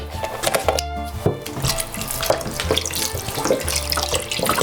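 Beef stock pours into an Instant Pot holding potato starch, a close, splashing liquid stream running steadily with small bumps and clinks, no speech over it.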